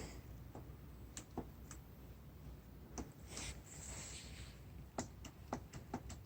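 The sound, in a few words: starter solenoid clicking on 1986 Harley Soft Tail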